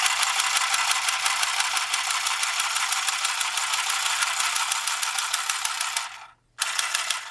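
A mini handheld sewing machine stitches through fabric for a memory pillow with a steady, fast mechanical clatter that runs continuously up close, stops briefly near the end, then starts again.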